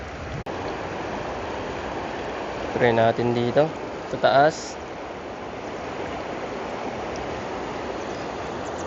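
River water flows steadily as a broad continuous rush through the whole clip, with a voice speaking briefly over it partway through.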